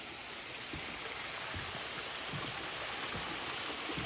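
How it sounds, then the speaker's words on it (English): A small garden water feature trickles steadily into an outdoor koi fish pond, a soft continuous splashing and babbling with faint droplet patter, close by and alone without voices. "A little water feature, a little fish pond."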